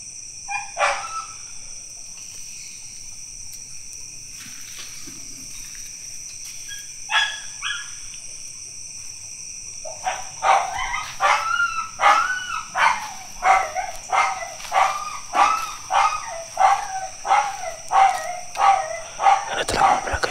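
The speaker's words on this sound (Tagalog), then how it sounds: "Yung mga aso, hindi mapalagay yung mga aso." Dogs bark restlessly beside a hut, sporadically at first and then in a steady rapid run of loud, close barks over a constant high insect drone.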